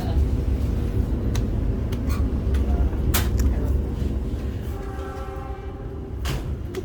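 A Turangga passenger train rushes past with a steady loud rumble, heard from aboard another moving train, and its horn sounds a sustained tone near the end.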